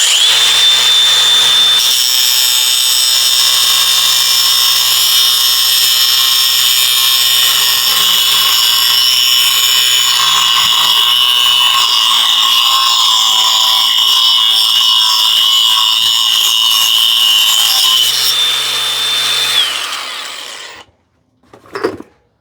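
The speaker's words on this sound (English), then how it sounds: "this is how I was going to cut that rod" A threaded rod being cut to length with a power tool, with the bolt sitting in a grooved block, giving a loud, sustained high-pitched whine that holds steady for about twenty seconds, then winds down and stops.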